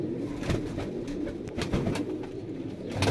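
Several breeder pigeons in a Faisalabad loft keep up a dense, throaty cooing, overlapping calls swelling and dipping close to the listener with occasional sharp wing or perch sounds cutting through.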